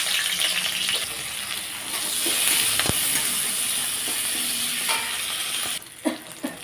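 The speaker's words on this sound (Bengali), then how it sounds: "এখন ফোড়নের জন্য দিয়ে দেবো কাঁচা লঙ্কা আর হচ্ছে রসুন।" Green chillies and garlic hit hot oil for a tempering in a home kitchen, a steady, loud, hissing sizzle with stirring. It carries on without a break and fades slightly near the end, with no talking.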